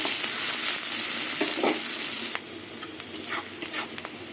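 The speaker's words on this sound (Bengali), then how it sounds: "এবার পেঁয়াজটাকে একটু লাল লাল করে ভেজে নেব" Chopped onions fry in a pan with a loud, dense sizzle that suddenly drops to a lighter crackle, followed by several sharp spatula scrapes and stirs against the pan.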